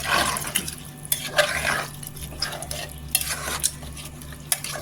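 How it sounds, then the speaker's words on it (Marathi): A spoon stirs rice and water together in a pot for vegetable pulao, giving repeated scraping and sloshing strokes against the metal with light clinks, close and alone. "इथे मिक्स करायचं पूर्णपणे।"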